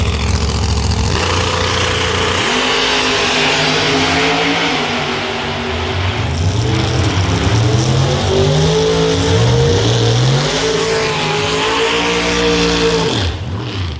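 A Mustang and a Camaro drag race down the strip at an outlaw racing event. Loud engines roar and rev with rising and falling pitch for the whole run, then pull away at the end.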